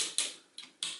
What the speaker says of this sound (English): he does have nicely ratcheted shoulders